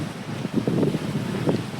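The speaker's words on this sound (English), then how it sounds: "Views here. Very windy." Gusty wind at Pictured Rocks National Lakeshore, Upper Michigan, buffets the microphone in rumbling low bursts, steady throughout with rising and falling surges, no voices.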